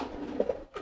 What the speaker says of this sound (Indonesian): ini juga nih ada nih merpati saya